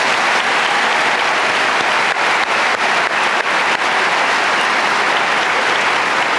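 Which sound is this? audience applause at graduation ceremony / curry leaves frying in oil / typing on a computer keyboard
audience applause at graduation ceremony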